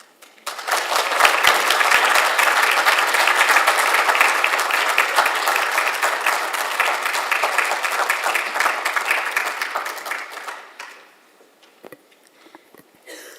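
An awards ceremony audience at a medical school applauds vigorously for about ten seconds, a dense even roar of clapping that tapers off abruptly into near quiet.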